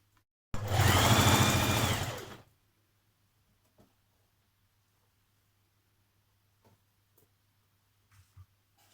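A sewing machine stitches a skirt seam in one loud, close two-second burst of fast running hum that then stops, leaving near silence with a few faint clicks and small handling sounds.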